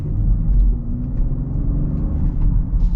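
A 2023 Cadillac XT5 crossover driving in all-wheel drive mode, heard from inside the cabin as a steady low engine and road rumble at moderate level, with no talk.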